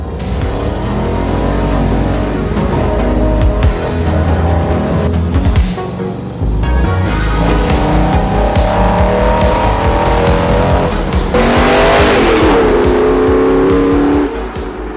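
A 1978 Holden Torana street machine, its engine revving hard and roaring through acceleration with tyre squeal, loud and close throughout, with a brief dip in the middle before the engine note climbs again.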